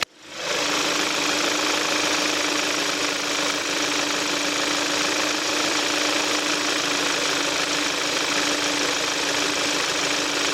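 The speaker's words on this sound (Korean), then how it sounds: "자 이렇게 K7 차량 엔진음 개방해 봤습니다 엔진 소리 한번 들어보도록 하겠습니다" A 2013 Kia K7 sedan engine idles steadily up close, a continuous even rumble with a fine mechanical ticking, no belt squeal or knocking, no voices.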